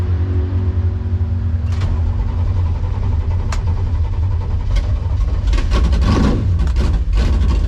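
A drag-racing golf cart engine running on CO2 pressure idles with a low steady rumble, sharp clicks and bursts come through, and the engine catches and firms up into a louder running note toward the end.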